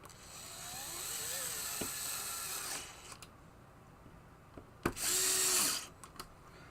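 Power drill driving screws during a teardown of a Gottlieb Hit The Deck pinball machine, with a long whirring run early on, then a sharp clunk and a second short burst of drilling against a quiet room.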